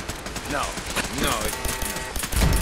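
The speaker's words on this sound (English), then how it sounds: "I couldn't tell what was shooting at me." Rapid, muffled gunfire shoots at the player in Fallout 4, a continuous clattering burst with whistling, sweeping tones mixed in, moderately loud, ending in a heavier low thump.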